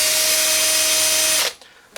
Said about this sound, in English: Hold that with my pair of pliers and just run the drill, and that seems to be squaring them off and cleaning them up pretty good.